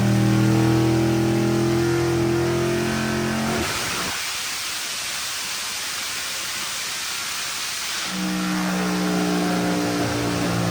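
Car engine on a dyno held at a loud, steady high-rpm drone, then dropping to a broad rushing whir from about four to eight seconds before the sustained engine tone returns, with no talking.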